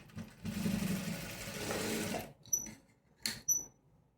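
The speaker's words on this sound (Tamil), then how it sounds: "இப்படி மடக்கிட்டு இங்கே ஒரு தையல் போட்டுருங்க." Sewing machine stitching a dart on a blouse, a steady close whir for about two seconds, followed by a few soft clicks and handling taps.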